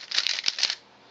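A Guhong Rubik's speedcube turned one-handed gives a quick, close run of light clicking and shuffling turns with a few sharper snaps, then trails off quietly.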